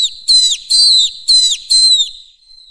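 A clear, close whistle repeats four times in quick, evenly spaced bursts, each a bright warbling tone with a falling tail, used as a sound effect in a martial-arts audiobook.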